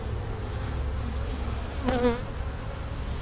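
Honeybees buzzing steadily at an open hive during a fall inspection, a dense, close hum, with a brief louder passing drone near the middle.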